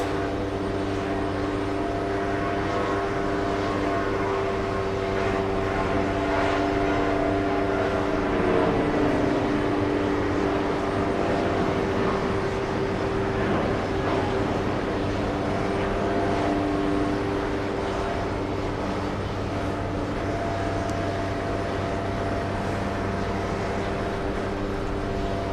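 A JetBlue airliner takes off at JFK with a sustained jet engine rumble layered with steady low humming tones, swelling slightly midway and otherwise constant, heard without speech.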